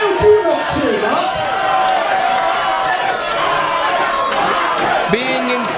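A wrestling crowd in an indoor venue roars and chants together, a dense, loud wall of voices with scattered shouts and brief peaks of cheering.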